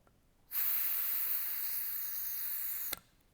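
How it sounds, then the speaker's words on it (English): A steady, high-pitched hiss of compressed air leaking from a torqued M-series fitting in a garage shop air system starts abruptly, holds for a couple of seconds, then cuts off with a small click. "you can hear it leaking"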